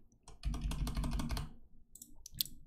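A computer keyboard clatters with a rapid burst of close keystrokes for about a second, pauses, then a few more scattered taps and clicks as a command is entered.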